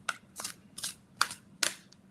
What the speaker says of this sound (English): let's shuffle and be like, Spirit, be with us and give us some answers for this